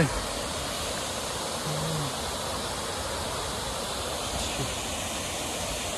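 A river running in the rain in Meghalaya, India, a steady broadband rush of flowing water that fills the whole stretch without a pause.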